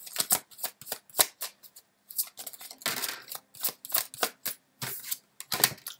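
A tarot deck being shuffled for a reading: repeated close riffles and crisp card flicks in short bursts with brief pauses between them, no voices heard.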